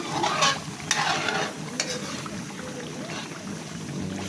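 Ginataan sili cooks in oil with a soft, continuous sizzle broken by a few sharp utensil scrapes and stirring clatters near the start, then settles into a low, even bubbling.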